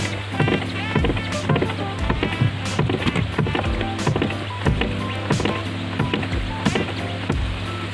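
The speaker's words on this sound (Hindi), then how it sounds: "प्रेशर क्रिएट करने के लिए क्लच को ऐसे पंप करना है लगातार" The clutch pedal of a Fiat Linea, under repair at the slave cylinder, is pumped repeatedly to build pressure, giving a steady, close series of rhythmic creaking thumps and clicks.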